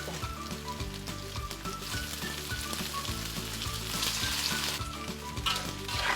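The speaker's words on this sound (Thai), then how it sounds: "ผัดให้เขาหอมใช่ไหมคะ ใส่น้ำตาลนิดนึงเนาะ" Stir-frying in a Thai kitchen with sugar and salt added: a steady, loud sizzle runs throughout, with rhythmic scraping strokes and a clanking pan in a repeating pattern. No one speaks.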